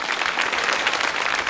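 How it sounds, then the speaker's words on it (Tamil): Audience clapping in a steady burst of dense, loud applause at a Tamil quiz-style gathering, continuous throughout with no voices over it. "ஓ, கைத்தட்டுங்க."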